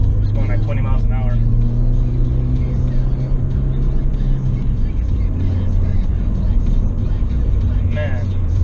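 A Ford Fiesta ST cruising through canyon roads, its engine and exhaust giving a steady, close drone with gear-like pitch shifts, while the driver talks over it at times.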